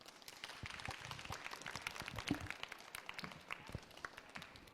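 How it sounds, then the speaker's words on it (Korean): Audience applause at the end of a lecture by author Kim Seon-ji about astronomy hidden in paintings: scattered, faint hand claps from a crowd, irregular and somewhat distant. "오늘 좋은 강연 해주신 김선지 작가님께 다시 한번 큰 박수 부탁드리고요"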